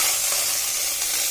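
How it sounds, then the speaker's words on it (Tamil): Steady loud sizzle as pomegranate pudding mixture hits a pan over a low flame, a continuous bright hiss with no voices. "ஸோ இப்போ வந்து ஒரு பேனில் வந்து லோ ஃப்ளேம் வச்சுக்கோங்க. லோ ஃப்ளேமில் வந்துட்டு இதை வந்து ஊற்றிக்க போகிறோம்."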